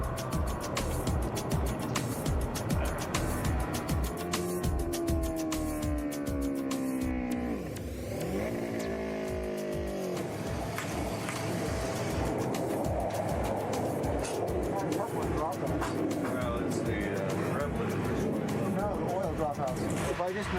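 A MotoCzysz racing motorcycle engine runs loud and close during a test, its pitch sweeping up and down as the revs rise and fall over a constant mechanical roar.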